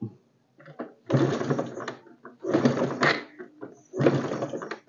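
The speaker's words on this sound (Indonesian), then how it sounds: "Nah, ini biar tertancap, kita engkol." Kick-starter on a Honda Supra X 125 motorcycle with an electrical fault, worked in three repeated strokes, each a close mechanical ratcheting clatter, with brief pauses between and no running engine.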